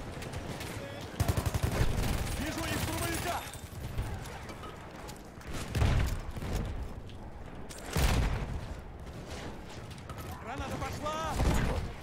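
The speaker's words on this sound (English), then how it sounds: "Yeah, he's shooting our way" Battlefield 1 combat with a Villar Perosa submachine gun: a rapid automatic burst, then heavy explosions and scattered shots. Voices talk over the din.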